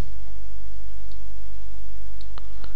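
A couple of soft, quick computer mouse clicks sound close together near the end, faint against a steady background hum with no talking.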